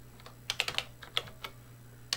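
Keys clack irregularly on a Color Computer keyboard as a BASIC program line is typed, a dozen or so crisp close taps with small pauses over a steady low hum and no talking.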